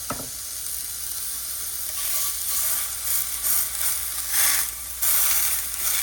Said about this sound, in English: So now we're just gonna go in on a good hot skillet.